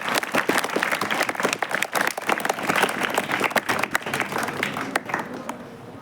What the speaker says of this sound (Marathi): एकदा सर्व विद्यार्थ्यांसाठी आपण जोरदार टाळ्या वाजवूयात